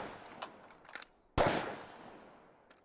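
A weapon fires once during a speed reload drill, a sharp close crack followed by a short decay, with a few faint clicks and handling noises before it.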